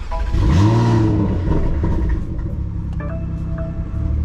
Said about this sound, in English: let's do a little cold start before I explain to you guys what it has